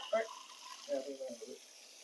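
Water pours onto the soil around a newly planted garden shrub, a soft, steady splashing that runs for about two seconds at low level as a voice speaks over it.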